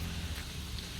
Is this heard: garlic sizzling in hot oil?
no